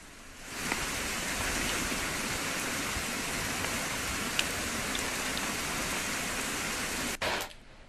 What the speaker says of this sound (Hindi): मौसम बदला तो झमाझम बारिश शुरू हो गई, आंधी के साथ